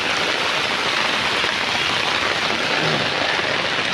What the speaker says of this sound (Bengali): যে পরিমাণ বৃষ্টি শুরু হয়েছে